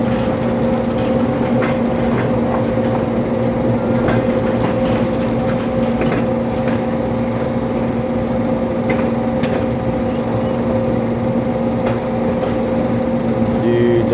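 Subak Raftar railcar, the 102 DN service from Rawalpindi to Lahore, runs steadily along the tracks in monsoon weather, with a constant loud engine drone and rumble and scattered wheel clicks throughout.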